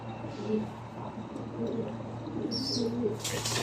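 Soft, repeated coos from caged pigeons in Riyadh, Saudi Arabia drift through a steady background hum, gentle and close, with a faint chirp near the end.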